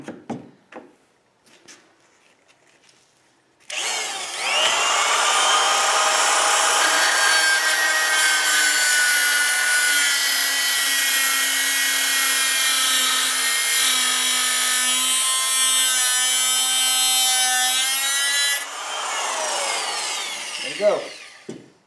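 Wood being sawn by hand for a backwoods DIY French press: a loud, steady rasping cut running about fifteen seconds, close up, with brief talk before and after.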